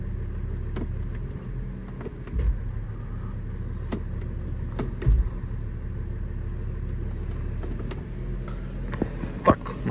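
A VW Touareg with a faulty automatic transmission rumbles along while driving, a steady low engine and road drone broken by a few sudden thumps and jolts near the end.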